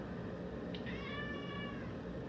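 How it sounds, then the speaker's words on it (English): A house cat gives a single drawn-out meow lasting about a second, fairly near, over a steady low background hum with no speech. "And that's our cat."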